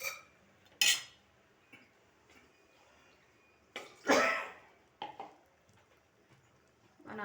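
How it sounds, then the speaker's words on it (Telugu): A few sharp coughs and throat-clearing sounds, set off by pungent spices in mutton curry, break a quiet room, spaced irregularly, with faint clinks of utensils nearby. "మసాలా ఘాటుకి దగ్గు వచ్చేస్తుందండి"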